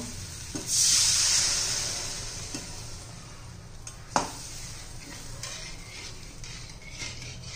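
Egg masala is stirred in a pan, with a spoon scraping and clinking against the metal, a short hiss early on and one sharp knock midway over a low steady background.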